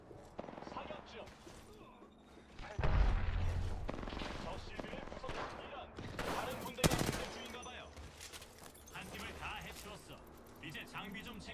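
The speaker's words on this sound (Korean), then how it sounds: "사격 중." Video game gunfire from Apex Legends, with bursts of shots and a loud blast near the middle and other loud cracks later, all set in a busy mix of game effects with talk over it.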